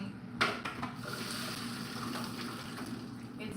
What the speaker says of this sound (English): We're gonna pour the macaroni and cheese out into the sink.